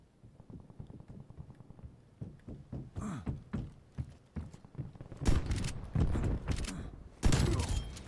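Video game C58 rifle fire, rapid bursts of shots that grow louder and denser toward the end, mixed with other game sounds in a busy close-range fight.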